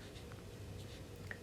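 Pen or pencil scratching steadily on paper while a math problem on derivatives of exponential functions is written out, a close, quiet, continuous scribble with no talk.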